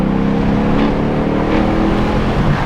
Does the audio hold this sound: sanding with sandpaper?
no